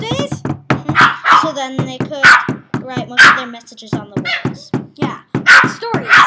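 A pet dog nearby whines and wails in drawn-out, rising cries mixed with a few short barks, heard under steady conversation between two people indoors.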